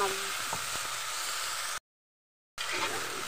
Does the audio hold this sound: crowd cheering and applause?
no